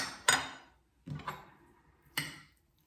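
A spoon stirs butter beans in a bowl, giving three distinct clinks and scrapes against the bowl, close and fairly quiet with short pauses between them.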